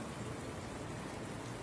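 Rain in an anime scene from Classroom of the Elite, a steady, even hiss of falling rain with no breaks, moderately quiet and unaccompanied by voices.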